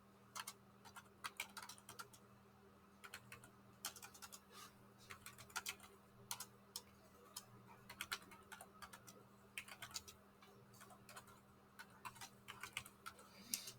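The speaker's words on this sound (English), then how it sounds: "I'm going to be typing comments" Computer keyboard typing as code comments are entered, with irregular bursts of clicking keystrokes against a steady low electrical hum, close and fairly quiet.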